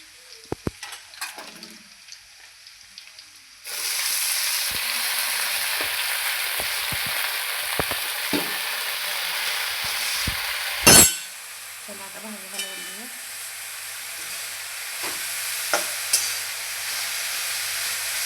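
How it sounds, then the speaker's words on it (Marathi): Fresh dill greens hit a pan of roasted garlic, setting off a sudden loud, steady sizzle that carries on with brief clatters of stirring, with no one talking. "लसूण भाजला की लगेचच आपण शेपूची भाजी टाकून घेऊया"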